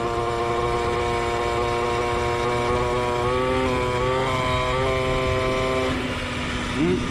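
A moped engine runs steadily after starting on choke, a close buzzing drone whose pitch wavers and climbs briefly before settling lower near the end.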